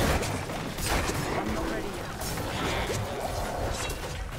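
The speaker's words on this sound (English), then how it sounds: "Got a lot of big guys here with some explosions happening." Explosions in the video game Diablo IV during a hardcore Rogue run, dense repeated booms and crashes layered with combat impacts, loud and continuous throughout with a voice talking over them.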